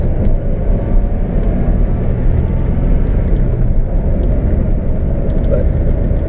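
1994 GMC Sonoma pickup, a Chevy S10 twin, driven hard with a loud, steady engine roar and road rumble heard from inside the cab, no voices.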